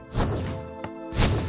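Cannons firing in Minecraft on a pirate-themed server: two heavy booming blasts about a second apart, each with a sharp thump and rumbling tail, plus a brief click between them, loud and close.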